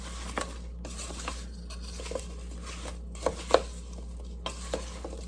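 A spoon stirs apple crisp filling with lemon juice in a bowl, giving soft scraping and a few sharper clicks and knocks against the side, close and fairly quiet, with no voices.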